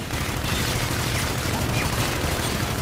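Steady gunfire from Call of Duty: Infinite Warfare, a dense, continuous rattle of shots with no break across the whole stretch, loud and close amid busy game noise.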